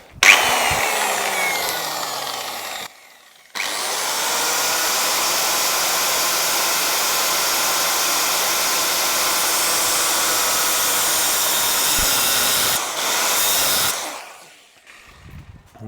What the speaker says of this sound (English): cut it down with a 6-inch grinder with a metal disc